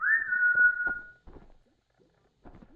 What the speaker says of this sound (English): The other generic emote is a whistle, which is much longer range than the other emotes